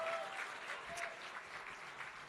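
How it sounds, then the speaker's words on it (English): Audience applause fills a gala hall, a steady dense clapping from a crowd that holds at an even level for a couple of seconds with no break. "Let's have a round of applause for him."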